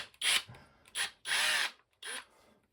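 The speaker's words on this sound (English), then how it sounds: "Okay, there's that impact, right? Impact action." A HHERCULES 20V 1/4-inch impact driver runs up close in four short bursts, whirring and hammering as it drives 3-inch screws, with brief silences between the pulls of the trigger.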